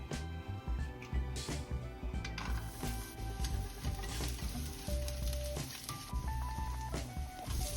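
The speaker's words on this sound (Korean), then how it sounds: "프라이팬에 오일을 부어 마늘을 먼저 볶아주세요." Garlic sizzles and crackles steadily in hot oil in a frying pan, a close, continuous frying hiss with soft stirring taps, part of cooking a spicy cream Shin Ramyun dish.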